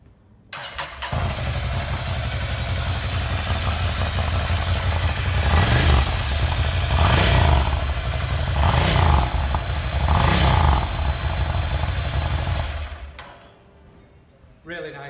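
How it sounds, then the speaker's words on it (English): A Ducati Scrambler Flat Track Pro motorcycle fitted with a Termignoni exhaust starts up close by, then settles into a loud, rough idle broken by several throttle blips before it shuts off abruptly near the end. "Also got the Termi exhaust there, so when we do start it up, it'll be a bit noisier than a standard one."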